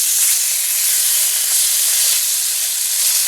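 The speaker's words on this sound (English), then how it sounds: "We're going to just sear this for about another 10 seconds" Ring-necked pheasant meat searing in a hot pan over medium-high heat, a loud, even hiss of sizzling fat held steady throughout.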